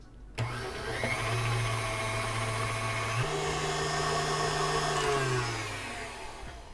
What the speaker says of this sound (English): I'm just gonna add that in and whip this up until it's nice and fluffy